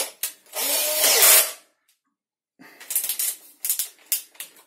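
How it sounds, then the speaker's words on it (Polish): A power drill with a second bit widens a small pilot hole in a 38 mm wooden strip for bathroom cabinet legs: one loud whirring burst, a pause, then several short choppy bursts of drilling. "Teraz drugim wiertłem muszę rozwiercić ten malutki otworek, który zrobiłem."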